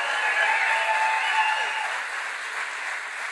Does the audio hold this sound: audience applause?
yes